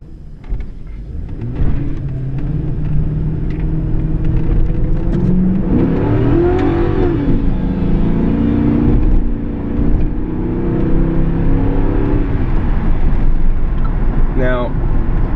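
A Ford Crown Victoria Police Interceptor on Dunlop winter tires cruises with a low, steady engine rumble that swells briefly as it accelerates, with someone talking over the drive.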